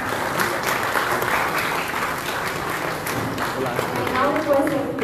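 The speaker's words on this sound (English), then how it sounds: "Can I have a huge round of applause?" An audience at a prize distribution function for a cooking competition applauds the chief guest, a tourism minister. The clapping is steady and moderately loud and continues without a break.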